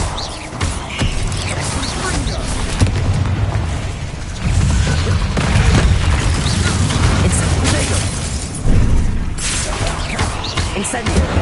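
Repeated blasting-curse explosions in the Hogwarts Legacy video game, loud booming bursts amid continuous spell-combat noise, with a voice shouting spell names over the action.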